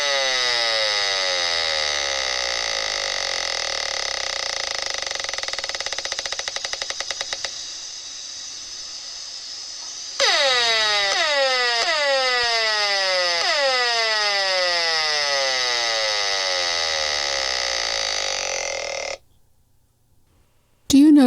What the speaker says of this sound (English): If we could hear this radiation, this is what it would sound like.